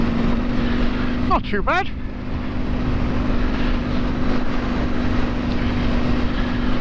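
A KTM 790 Adventure motorcycle ridden over wet, slippery chalk tracks on Salisbury Plain: a steady, close engine drone with broadband wind and road rumble throughout, and someone briefly speaking over it.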